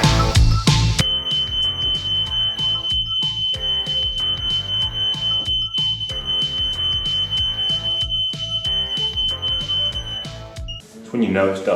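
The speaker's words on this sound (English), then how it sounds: "when the fire alarm is going off for dust" Smoke alarm triggered by dust in a house under renovation: a steady high-pitched electronic tone sounds loudly for most of the stretch, mixed with rhythmic clattering and knocking beneath it, and people talking over it.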